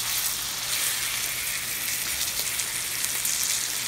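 New York steak sizzling in butter and oil in a pan, a steady crackling fry with a faint low hum underneath and no talking.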